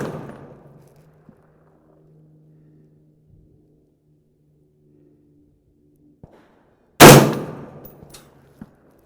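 Savage MSR 10 semi-automatic rifle fired at a long-range target, one loud sharp report with a decaying echo, followed later by a single smaller knock, amid quiet outdoor background.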